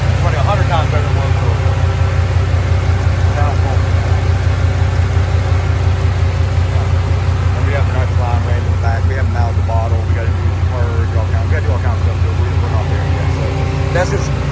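A Chevrolet Silverado pickup engine fitted with a TBSS intake runs at a steady idle, a loud close low rumble with a faint regular pulse, while a person talks over it.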